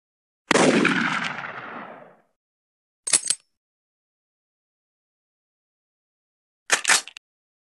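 Rifle shots from the hunting arcade game Big Buck Hunter: one loud booming shot with a long decaying echo, followed by two shorter, sharper reports several seconds apart.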